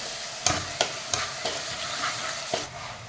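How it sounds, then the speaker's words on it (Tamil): Tomatoes sauté with onion and garlic in a pan for manathakkali puli kuzhambu, with a steady close sizzle broken by about six sharp scraping strokes of a stirring spoon. "இதில் நாம் தக்காளி சேர்த்து வதக்கிக்கலாம்."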